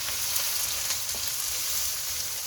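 Onions sautéing in a pan for Cantonese fried rice give off a steady, close sizzle that runs unbroken through the whole stretch, with only faint stirring under it and no talking.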